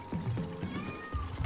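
A house cat gives a few short meows in a row, close by and clear, sitting over a constant low hum with no one talking.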